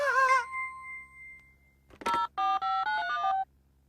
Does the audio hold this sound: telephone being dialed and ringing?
yes